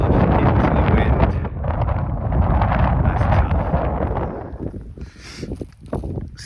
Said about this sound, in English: Gosh, into the wind.